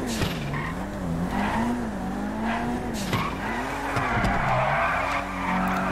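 A car in GTA V drifts with a loud, continuous tire squeal that rises and falls in pitch over a steady engine drone, close and uninterrupted for several seconds.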